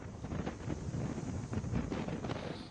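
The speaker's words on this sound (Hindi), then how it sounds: "ये तेज हवाएं जो है वो लगातार यहाँ पे चल रही है" Strong, steady wind and rain on the coast during Cyclone Biparjoy in Gujarat, a dense continuous roar buffeting the microphone without pause, loud and close, with no speech.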